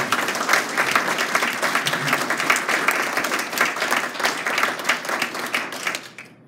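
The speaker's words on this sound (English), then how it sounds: "So if we could just give a round of thanks and applause." Sustained applause from a group at a church vestry meeting, steady dense clapping for several seconds before tapering off at the end, with faint voices mixed in.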